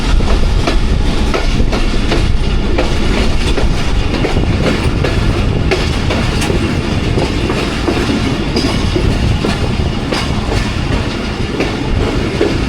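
The Pakistan Express from Rawalpindi runs through a station platform on an early rainy morning, a loud, continuous rumble of wheels and rail clatter close by, steady throughout.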